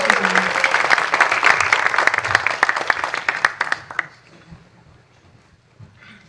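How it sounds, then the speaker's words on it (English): Warm applause from a church congregation for the musicians, full and loud for about four seconds before thinning out into scattered claps and near silence. "of applause for these amazing musicians."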